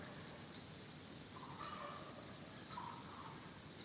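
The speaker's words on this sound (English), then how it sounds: "So that turkey, that clucking, I thought I heard that." Faint, sharp wild turkey clucks sound at regular intervals, about four in a row, over a quiet outdoor background hiss.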